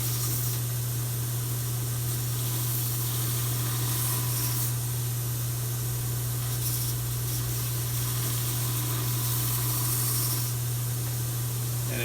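Sander smoothing the mushroomed inner edges of a chainsaw bar's drive channel, a steady close motor hum under a continuous abrasive hiss, with slight surges as the steel bar is worked against the belt.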